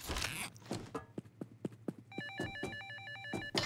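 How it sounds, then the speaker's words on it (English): In the heist video game Payday 2, a telephone starts ringing with a quick warbling electronic trill partway through, layered over a run of sharp rhythmic clicks or footsteps. "Pick up the phone okay. and let me do the talking."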